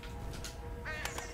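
A crow caws a couple of times in the video game Condemned: Criminal Origins, harsh and fairly close over a quiet background with no talk.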